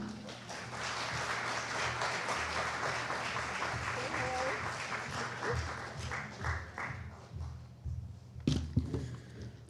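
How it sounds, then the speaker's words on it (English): An audience at a poetry recital applauds, a dense clatter of many hands clapping that thins out and fades into scattered claps and voices. "Please give a big round of applause to Akshay."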